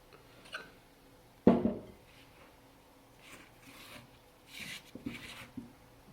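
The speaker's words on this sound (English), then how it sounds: "You can knead it a little bit, but it doesn't have to be really well kneaded." Sourdough bread dough kneaded by hand in an oiled glass bowl: quiet, soft rubbing and squishing with one sharper thump, mostly faint and intermittent.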